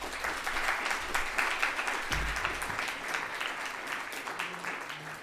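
An audience applauds after an opening speech at a school UN role-play opening ceremony, with steady, sustained clapping from a large crowd in a hall that holds evenly throughout.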